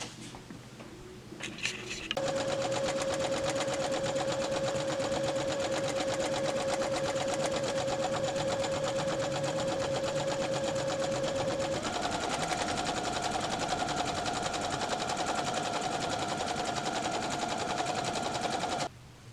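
A sewing machine stitches a dress skirt in one long, steady run, its motor whirring loudly and continuously close by, with a slight shift in pitch partway through. No one speaks.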